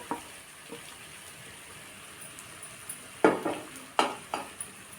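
Finely chopped bitter gourd is stirred and sautéed in a pan for a Marathi-style karela bhaji, under a faint, steady sizzle, with several sharper scrapes and clinks of a spatula against the pan near the end.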